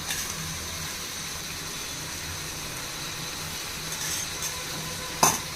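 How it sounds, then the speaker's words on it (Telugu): A ladle stirring yogurt into a prawn pulao gravy in a pot, a low continuous sizzle with faint scraping and a sharp metallic clink near the end. "ఇప్పుడు బాగా కలపాలండి"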